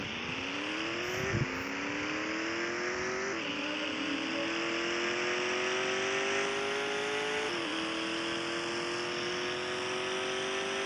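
A car engine in the Car Racing 2 video game whines loud and close, rising steadily in pitch with brief dips at each gear shift across the whole stretch.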